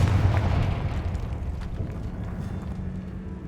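A Confringo blasting spell explosion in Hogwarts Legacy, a deep rumbling boom that starts loud and slowly decays over a few seconds.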